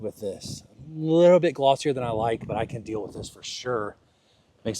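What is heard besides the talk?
None of the usual background noises is heard.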